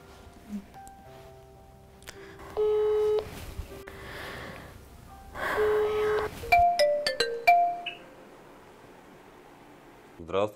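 A telephone call being placed live on a television program: repeated ringback tones sound at a moderate level with soft background rustle, followed by a quick series of higher electronic beeps.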